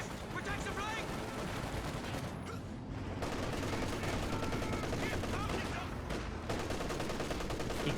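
Dense battle din in the strategy game Company of Heroes 2, with sustained machine gun bursts and overlapping gunfire rattling continuously, brief lulls between volleys, loud and close.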